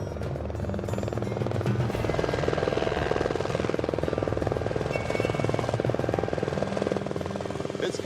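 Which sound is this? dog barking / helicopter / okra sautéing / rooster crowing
helicopter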